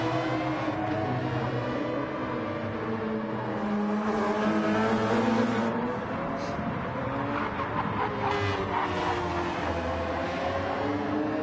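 Race cars in Gran Turismo 7 on the Daytona Road Course, several engines droning and shifting pitch together as the pack runs close through qualifying, a continuous layered whine with no talk.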